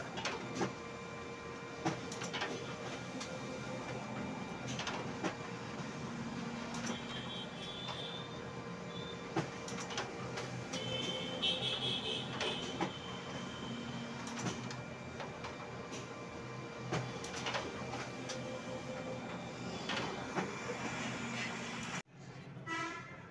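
A Konica Minolta copier runs off multiple copy sets, with a continuous mechanical hum and whir punctuated by regular clicks and clunks of paper feeding, plus a brief thump near the end.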